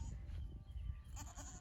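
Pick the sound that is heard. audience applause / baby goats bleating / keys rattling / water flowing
baby goats bleating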